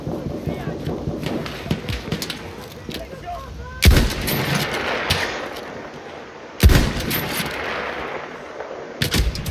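Sniper gunfire rings out in the video game Battlefield 1, with two loud booming shots several seconds apart amid ongoing battle noise, while someone talks over the action.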